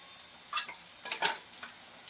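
Onions and green chillies sauté on a gas stove, giving a soft, fairly faint sizzle with a few brief stirring scrapes and spatters.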